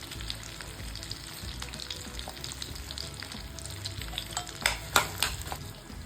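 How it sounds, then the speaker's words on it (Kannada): Onions sizzle softly in a pan for paneer butter masala. The low, steady frying hiss is broken by a few sharper clinks and crackles toward the end, with no one speaking. "ಫಸ್ಟ್ ನಾವು ಈರುಳ್ಳಿನ ಹಾಕಿ ಬಡಿಸ್ಕೋಬೇಕಾಗುತ್ತೆ."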